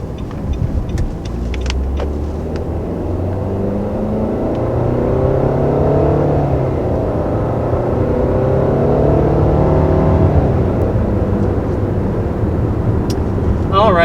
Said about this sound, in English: first taking off in the 2020 Nissan Rogue